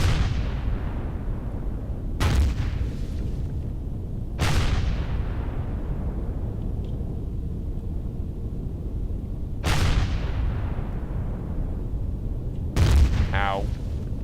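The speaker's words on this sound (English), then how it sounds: "spaceport is not friendly. And it's shooting shit at us." Hostile spaceport guns in the Empyrion space game fire at the player: four heavy booming blasts a few seconds apart, each with a long rumbling decay, over a steady low roar.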